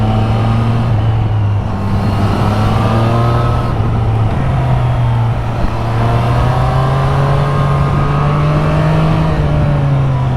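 A 2023/2024 Triumph Street Triple 765 RS motorcycle engine drones loud and close while accelerating on throttle, its pitch climbing steadily through a long continuous pull with no speech.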